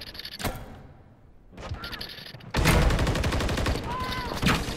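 Modern Warfare 3 gunfire crackles in rapid bursts, with a brief volley early, a pause filled by game noise, then a loud sustained stretch of close automatic fire with mechanical clatter, under occasional voice chatter.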